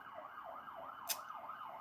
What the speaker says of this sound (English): you hear the sirens in the background? That's the police coming to get you.